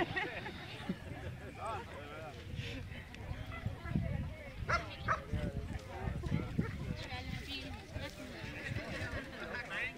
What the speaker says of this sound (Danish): Og der var lige en fremmed hund,